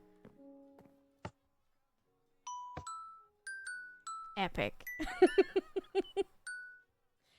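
A doorbell built inside Minecraft chimes in a run of short, clean electronic tones, scattered at first and then quickening into a dense cluster of rings. A voice speaks briefly partway through.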